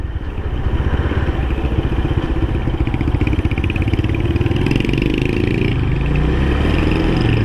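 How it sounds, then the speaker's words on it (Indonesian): A GL motorcycle engine runs close and loud, a steady throbbing idle with slight rises in revs throughout. "itu tampak sekilas motornya Mas Vicky ya"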